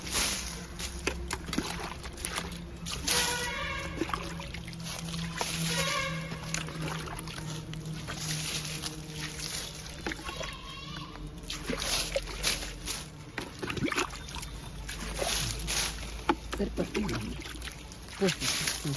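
Water poured over dry leaves heaped for garden compost, a steady sloshing trickle running through most of the stretch while someone talks over it.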